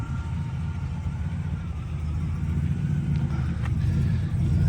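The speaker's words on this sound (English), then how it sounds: "Really nice running V8 under the hood." A 1975 Oldsmobile Delta 88 Royal convertible with its V8 idling smoothly, a steady low rumble close by that swells slightly toward the end, with a faint tick or two above it.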